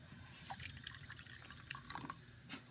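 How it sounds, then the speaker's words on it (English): Water trickling and dripping onto Skittles candy in a dish during a bubble Skittles challenge, a soft, close, uneven pour with small splashes and no talking. "Pour some more water on it."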